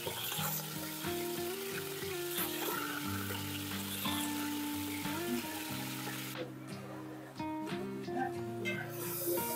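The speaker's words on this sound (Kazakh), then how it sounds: "қызып тұрған майға әуелгі қойдың етін салып қуырып аламыз." Lamb meat fries in hot fat, giving a continuous close sizzle and hiss that runs all the way through with occasional stirring, while music plays underneath the sound of the cooking.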